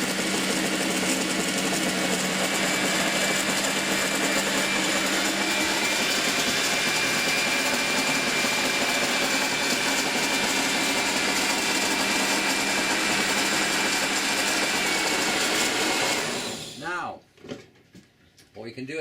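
A kitchen mixer blends a sunflower lecithin liposome mixture with a loud, steady whirring drone for about sixteen seconds, then winds down and stops, leaving a few faint sounds.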